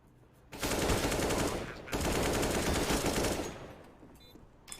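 Rapid automatic gunfire in a 5v5 tactical shooter tournament match, heard as two loud, sustained bursts back to back that fade into quieter game ambience.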